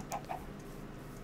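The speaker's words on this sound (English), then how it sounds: "in you go, chickens" Minecraft chickens give two quick, soft clucks close together near the start, then fall quiet over a steady low background hum.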